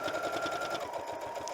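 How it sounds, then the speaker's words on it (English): A sewing machine stitches the binding closed on a quilt, a steady fast mechanical whir with rapid needle ticking, close and continuous. "So now we're going to close the binding, and I'm going to start sewing where I just left off."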